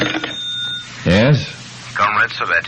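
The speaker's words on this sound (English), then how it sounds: "And then the phone rang." A telephone bell rings in an old-time radio drama. It is heard near the start, with voices talking over and after it.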